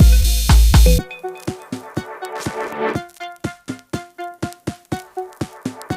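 Thinned-out drum groove with the low end filtered away, playing as part of a full electronic mix built in Ableton; after a dense, wash-heavy opening second, crisp evenly spaced hits and a tonal riff run steadily and clearly.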